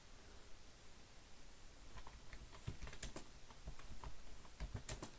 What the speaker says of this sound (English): here, I'll type it too